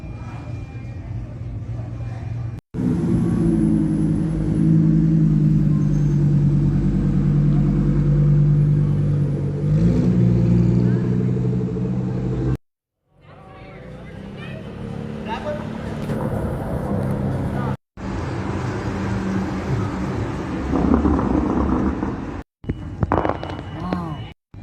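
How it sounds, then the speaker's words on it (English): A Toyota Supra and other cars leave a car show, engines rumbling and revving loudly nearby as they pull away, with short pauses between passes and people talking over the noise. "There goes the Supra."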